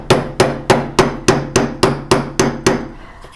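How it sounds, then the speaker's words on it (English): Heavy hammer striking a metal sheet to texture it, nine sharp evenly spaced ringing blows about a third of a second apart, close and loud with no talking. "it's a heavy hammer, so I'm going to start around my edges to maintain the size of my metal."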